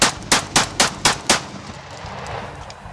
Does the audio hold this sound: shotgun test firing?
yes